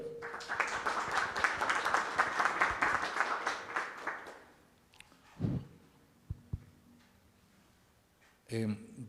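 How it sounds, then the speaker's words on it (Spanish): An audience at a lecture applauds a historian and university professor as he is introduced, dense clapping for about four seconds that fades out, followed by a few isolated sounds and the start of someone speaking. "Fuertes los aplausos para él."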